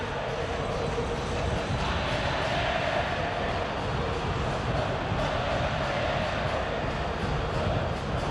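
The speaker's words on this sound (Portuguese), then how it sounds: "Volta a subir o som, o volume da torcida do Boca." Boca Juniors supporters fill a stadium during the 2012 Copa Libertadores final against Corinthians, a dense, continuous crowd roar swelling and holding steady throughout, loud and broad like distant chanting.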